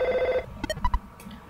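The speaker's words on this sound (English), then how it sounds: "We got a phone call." A telephone rings in the SNES role-playing game EarthBound, a short retro chiptune ring burst of a few quick beeps after a held tone, clear and alone.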